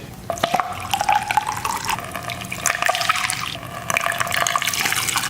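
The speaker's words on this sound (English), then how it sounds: "we'll fill up each cell with our Epsom salt and distilled water solution" An Epsom salt and distilled water solution pours and splashes steadily into battery cells, a continuous liquid trickle with faint dripping tones, close and moderately loud.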